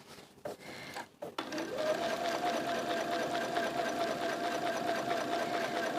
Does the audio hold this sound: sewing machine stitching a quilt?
yes